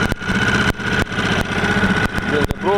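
A Parsun F5 outboard boat motor runs steadily with a loud, close, buzzing drone, broken by a few sharp clicks near the end.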